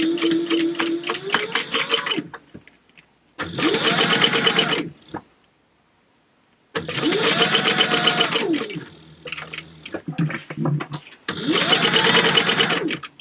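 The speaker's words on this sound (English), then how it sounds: "I'm just going to sew right back down to where my other mark is." A sewing machine stitches a leather wallet in four loud, close bursts of rapid mechanical chatter, separated by pauses and a brief lower-pitched run.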